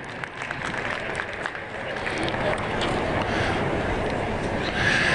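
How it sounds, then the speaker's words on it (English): A crowd at a junior market swine championship at a livestock stock show claps in sustained applause, a dense, even patter that holds steady for about five seconds amid arena murmur. "Give them a round of applause, folks."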